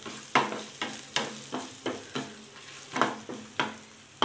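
A spoon stirs pongal seasoning frying in a pan, each scrape landing as a crisp sweep in a regular rhythm of about two per second over a soft, steady sizzle, close by and with no talking.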